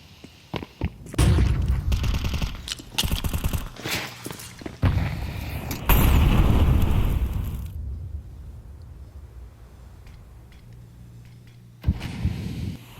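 AK rifles firing in a professional Counter-Strike match, loud rapid bursts of gunfire in several volleys, fading to quieter distant shots before one last short burst.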